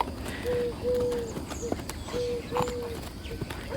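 A gaited horse trots past and its hooves give a soft, irregular clip-clop at moderate distance. Thin bird calls sound over it.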